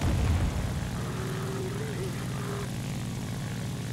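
Propeller engine of a Ki-100 fighter plane in the War Thunder game, a steady droning hum held at a constant level throughout, joined by a faint rising whine partway through, with no talking.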